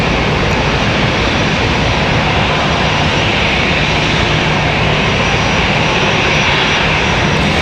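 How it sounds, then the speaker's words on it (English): A UPS MD-11 cargo jet roars on departure from Raleigh-Durham airport, a loud, continuous engine rumble and roar that dominates the clip with no talking. "Wednesday nights we try to stay for the UPS MD-11 departure here."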